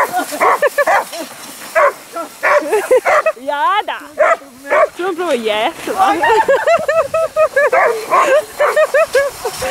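A dog barks in loud yips and bursts, then whimpers and whines in rising, wavering tones, close by and nearly continuous over several seconds.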